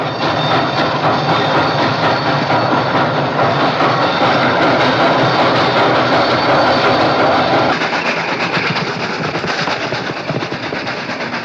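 A running train engine roars close and loud in a western action movie, a dense continuous rumble and rattle with faint clacking that holds steady for several seconds and eases slightly near the end, no voices over it.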